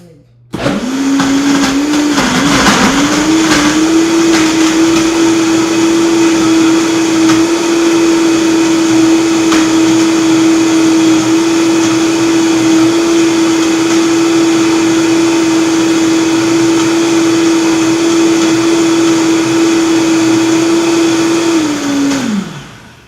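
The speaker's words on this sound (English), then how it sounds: "So this is my smoothie, my Vita blender, my Vitamix." A Vitamix blender runs a protein smoothie, a loud steady motor whir that spins up quickly, holds an even pitch for about twenty seconds with no talk, then winds down at the end.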